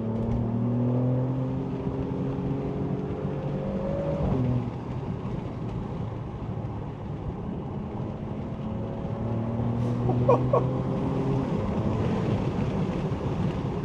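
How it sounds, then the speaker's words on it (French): An Alfa Romeo Stelvio Quadrifoglio exhaust drones while the SUV is driven on a twisty road, its engine tone rising through the gears over steady wind and road rush, with a sharper burble near the end. "J'espère que vous entendez bien l'échappement."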